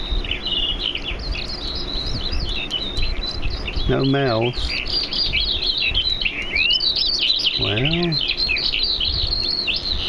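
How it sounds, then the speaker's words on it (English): Wild birds chirp and tweet constantly in The Hunter: Call of the Wild, a busy layer of high calls running the whole time beneath a voice, with crickets faintly in the mix. "I just think it's annoying to hear birds all the time like that."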